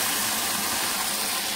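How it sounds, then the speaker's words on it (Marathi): Marathi-style dal (varan) boiling in a pot gives off a steady, dense hiss and bubbling, loud and close, with a brief clink at the end and no voices. "वरणाला छान उकळी आली आहे."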